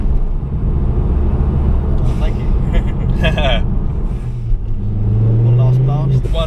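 A modified Ford Focus ST engine rumbles steadily throughout, with a brief rising rev near the end, while a person speaks briefly over it.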